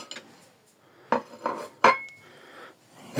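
Metal knife scraping and clinking against a 7-litre pot to test its coating, several short separate scrapes and taps at close range with quiet gaps between them.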